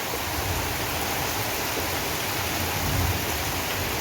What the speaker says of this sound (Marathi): आहे का आवाज कसं काय गरजतंय